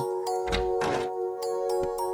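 Knocks land on a small cottage door in a children's fairy-tale sound effect: a few dull wooden thunks, one heavier knock in the middle, over a steady music drone.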